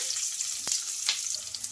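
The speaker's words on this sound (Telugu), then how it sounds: "చిన్నగా కట్ చేసుకున్న ఆనియన్స్ కూడా వేసేసుకోవాలి" Chopped onions dropped into hot oil with cumin and mustard seed tempering, a close, bright sizzle with a couple of sharp crackles and pops, no talking.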